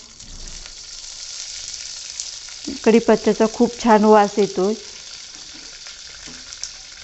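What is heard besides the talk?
curry leaves sizzling in hot oil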